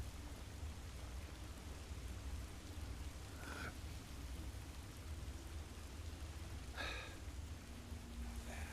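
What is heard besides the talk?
rain outside the window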